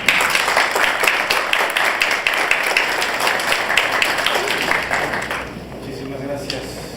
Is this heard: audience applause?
yes